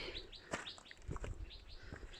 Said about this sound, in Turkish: Kuş çok güzel.